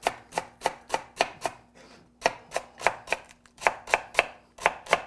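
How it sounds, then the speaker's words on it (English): A knife chops through celery roots on a cutting board in a steady run of crisp, evenly spaced strokes, close and loud, with one short pause partway through and no voices. "You're going to cut off the dead part of the roots here."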